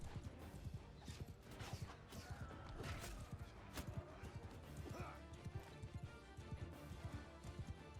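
Horses in the medieval battle game Mount & Blade II: Bannerlord clop and thud amid a busy clash of hooves, creaks and impacts, fairly quiet overall with loud transient hits throughout.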